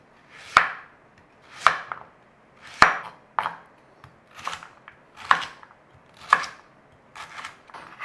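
A knife chopping carrot into cubes on a cutting board, a steady series of about eight crisp, close chops spaced roughly a second apart with no talking.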